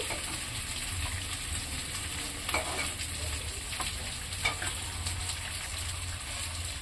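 Poultry chicken meat sizzles as it is sautéed in a pan, a steady frying hiss with occasional scraping stirs from a utensil, heard close and fairly quiet without talk.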